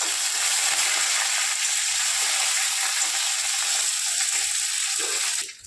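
Curry leaves dropped into hot oil in a pan with green chillies, a loud, dense, steady sizzle and crackle that cuts off abruptly at the end.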